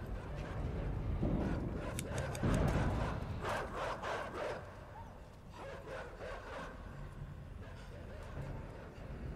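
Dogs bark in a noisy stretch of the Grand Theft Auto game, with loud, busy bursts of yapping and crowd-like commotion heavy in the first half, easing into a steadier background clamour.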